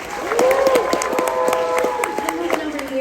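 An audience on a convention cruise claps and cheers for a contestant, a dense burst of applause that rises early and then tapers, with a voice talking over it and a short whistle-like tone in the middle.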